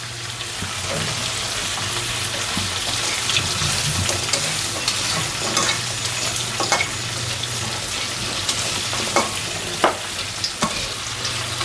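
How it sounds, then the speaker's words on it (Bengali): Lentil dumplings (bori) being lightly fried in a pan, with a steady close sizzle under scattered clinks and scrapes from stirring, and no voices. "বড়িগুলো একটু ভেজে নেব হালকা করে"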